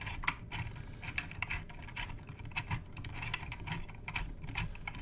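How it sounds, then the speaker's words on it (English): A small can fitted with washers is screwed into a threaded hole on a 20 kg load cell scale, giving a run of close, quiet metallic clicks and scrapes in an uneven rhythm. "I'm just going to thread that into the hole here"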